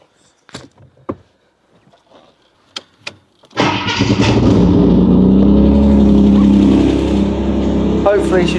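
A Ford Granada Mk2 2.8 Ghia X, abandoned for years, fires up after a few scattered clicks and knocks. It then settles into a loud, steady idle close by.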